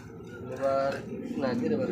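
Three exhibition pigeons, among them a blue bar, give low, throaty coos close by, blended with someone talking over them.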